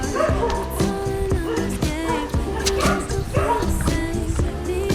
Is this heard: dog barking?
yes